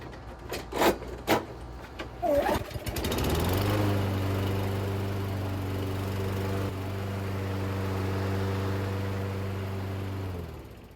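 A lawn mower engine repaired after a head gasket fault, heard first as a few sharp pulls and knocks before it starts, then settling into a steady, droning run that holds loud and even to the end.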